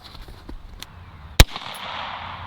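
One sharp, loud .357 gunshot with 112 grain ammo from a short-barrel Bintac AEA Defender V2.0 cracks out, followed by a brief echo, with quiet outdoor ambience before and after.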